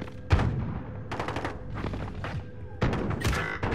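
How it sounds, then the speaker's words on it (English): Shotgun fire in the Call of Duty: Modern Warfare video game, a few sharp loud blasts spread across the moment with busy gameplay noise between them. "A shotgun, bro."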